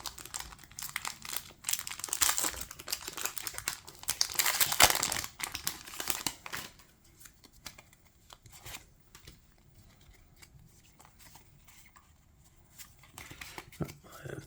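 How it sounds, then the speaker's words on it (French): Pokémon booster card packs torn open, loud crinkling and ripping foil wrappers close up for several seconds, then quieter rustling and card handling, with occasional soft talking. "on va ouvrir les boosters bien sûr"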